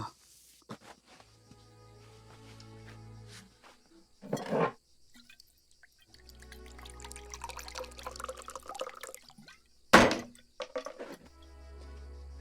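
Water is poured into a glass of scotch in two short splashing bursts, separated by quiet stretches and soft low murmurs.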